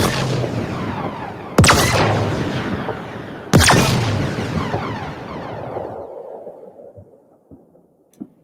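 Two loud blasts from an energy rifle in the video game The Ascent fire outdoors, each with a long booming tail, then fading into faint distant thuds and scattered echoes.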